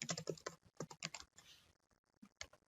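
Typing on a computer keyboard, with quick irregular clusters of close key clicks separated by short pauses, quiet overall.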